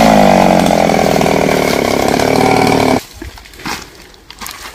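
A chainsaw cuts through a coconut tree with a loud, steady engine roar for about three seconds, then stops abruptly, leaving quieter outdoor background sound with faint rustling.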